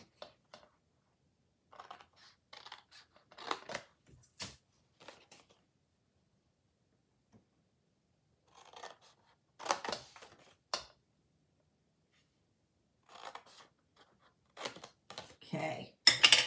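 Scissors snip away paper squares from a paper pumpkin card kit, giving sparse, crisp cuts and paper rustles in short bursts separated by quiet gaps, with a person speaking between them.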